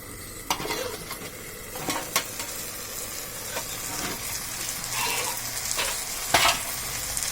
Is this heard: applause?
no